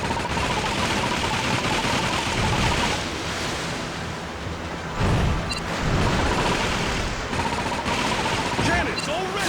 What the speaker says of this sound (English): Cannons already!